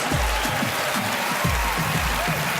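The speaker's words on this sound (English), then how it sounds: "Let's give her a big round of applause." Steady audience applause fills a television magic show studio, a broad continuous wash of clapping with crowd noise and no break.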